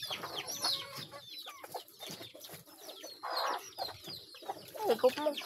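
Chickens cluck and call repeatedly close by on a small farm, their short bursts rising over quiet background sounds.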